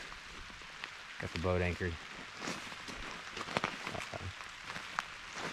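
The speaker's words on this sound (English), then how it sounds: "it's been raining all day" Steady rain patters over a gravel bar campsite on an Ozarks river, a soft, continuous hiss running through the whole stretch while someone talks over it.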